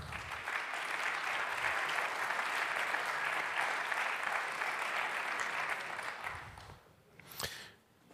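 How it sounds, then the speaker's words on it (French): Sustained audience applause at an SEO awards ceremony in Paris, a dense, steady roar of many hands clapping for about six seconds before fading out at the end. "On les applaudit encore une fois."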